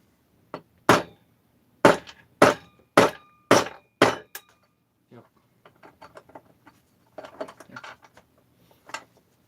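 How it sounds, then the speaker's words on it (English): Hammer tapping a Stihl 660 chainsaw part during assembly: about six sharp metallic strikes in quick succession, close and loud, then softer scattered clinks and light handling noises. "Hit this with a hammer."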